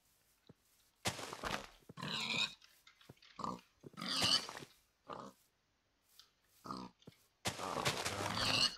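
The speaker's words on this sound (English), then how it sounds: "I might kill some pigs." Pigs grunt in a video game, with a run of short, rough oinks and snorts in separate bursts broken by quiet gaps.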